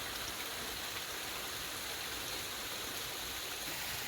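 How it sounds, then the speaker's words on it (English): A small waterfall feeding a stream in a wooded gorge, heard as a steady, soft rush of falling and flowing water with no voices. "Pretty nice little waterfall."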